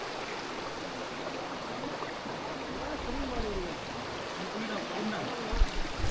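A river stream flowing in the Jawadhu Hills, a steady broadband rush of water running throughout, with faint voices and a few low thumps near the end.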